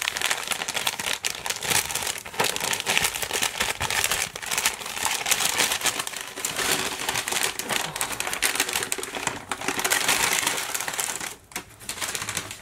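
Paper bag holding a beauty delivery crinkles and rustles steadily close by, dense crackling bursts running throughout with a brief pause near the end.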